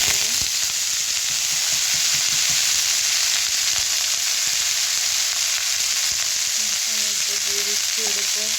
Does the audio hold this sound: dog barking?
no